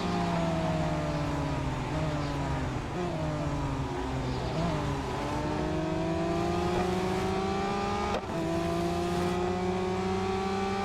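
A race car in Real Racing 3 drives hard while overtaking, its engine whine climbing and shifting through gears with other cars' engines layered close by and a sharp knock near the end.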